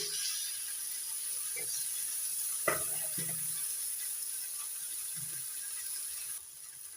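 Chopped tomatoes drop into a hot frying pan for a vegetarian drumstick curry, setting off a steady, moderate sizzle with a brief clatter as they land and a few faint stirring knocks.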